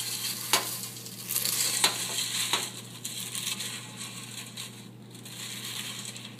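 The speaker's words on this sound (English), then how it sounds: "So I've just dumped all the cereal in with the marshmallows, no heat, and stir, stir, stir." Breakfast cereal flakes are stirred into melted marshmallows in a bowl with no heat: soft sticky crunching and a few sharp clicks of the spoon against the bowl, fairly quiet and close, with no talking.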